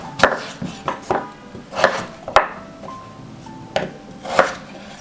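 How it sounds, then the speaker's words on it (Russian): A knife cuts steadily through potatoes against a board, crisp chops landing at an irregular, unhurried pace, close and clear with no talking. "И сейчас будем нарезать картофель. 3-4 картофелины небольшие нарезаем на слайсы."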